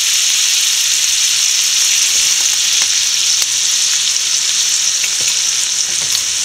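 Ground coconut paste hits a hot pan with curry leaves for a Kerala-style coconut chutney, making a loud, dense, unbroken sizzle close up, with faint stirring ticks and no talking.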